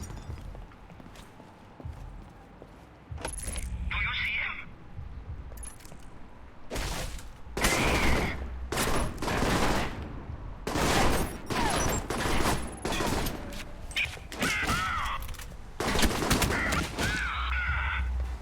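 Gunfire from enemy snipers on a ridge in the video game Alpha Protocol cracks out in repeated sharp bursts and volleys over a low ambient background, with no talking.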